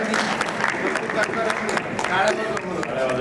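A crowd at an award ceremony claps for Dr. Ranjit Bhagwan Thorat, a dense patter of applause throughout, mixed with a voice speaking over it.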